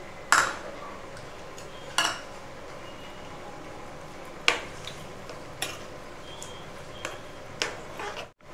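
Amla pickle ingredients mixed together in a bowl, with a handful of sharp spoon-on-bowl clinks and scrapes at irregular intervals over a quiet room background, no talking.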